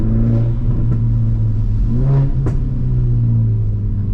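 A tuned 250 bhp VW Polo GTI hatchback engine rumbles loudly from inside the cabin, rising and falling as it revs, with a deep, steady drone throughout.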